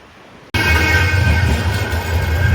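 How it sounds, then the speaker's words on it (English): An old tram on a street in Oldham bursts in abruptly and rolls past close by at speed, a loud sustained rumble with metallic wheel hum that holds steady for the rest of the moment. "The old tram goes past at a fair lick."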